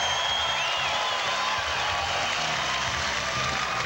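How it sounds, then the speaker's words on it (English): A crowd at a Ranger M1 bass fishing tournament weigh-in on the Mobile Delta applauds for hometown favourite angler Jason Kilpatrick from Satsuma, Alabama, with sustained dense clapping and cheering throughout. "I guess it makes you feel good hearing that tremendous round of applause"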